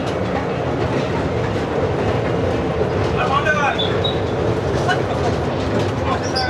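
An amusement park sky train ride at Dream Holiday Park rumbles along with a steady rattling and clattering of the cars, while indistinct voices murmur in the background.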